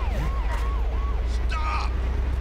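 A police car siren in a GTA-style video game wails in rising and falling sweeps over a low engine drone, fairly faint and steady, with other game noises briefly cutting across.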